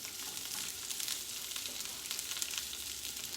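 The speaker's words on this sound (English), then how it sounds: "take the peppers and onions and put that into the pan" Sliced peppers and onions sizzle in a hot pan, a steady close hiss of frying that goes on without pause or talk.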